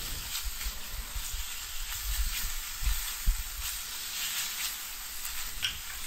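Steak pieces browning in a hot pan give a steady, close sizzle and fry hiss that runs throughout with small crackling bursts, no voices.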